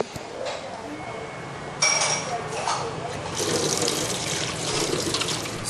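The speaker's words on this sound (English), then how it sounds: "I'm going to go wash up my hands" Water runs steadily from a restaurant sink tap as hands are washed, a close splashing flow that gets louder and fuller partway through, with small clinks and a voice talking under it.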